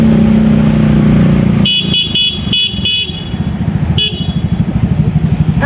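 A motorcycle engine idles and revs nearby, loud and steady, with a rhythmic throb building toward the end, broken by several short, sharp horn toots near the start.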